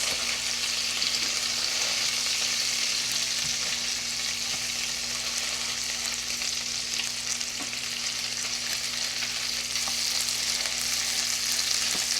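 Burger patties sizzle in a frying pan right after being flipped, a dense, steady crackling hiss that holds close and even throughout, with a faint hum beneath and no talking.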